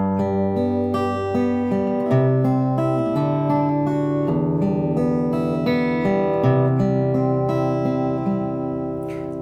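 Guitar plays a song's chord progression: clear, ringing chords and picked notes flow in a steady, gentle rhythm, loud and close with no talking.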